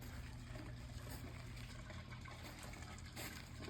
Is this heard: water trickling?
yes